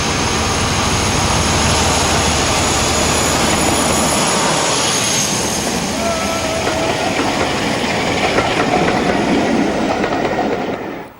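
Class 45 Peak diesel locomotive 45132, unofficially named Polyphemus, departing Butterley with a loud sustained engine roar and rumble that fades slightly toward the end.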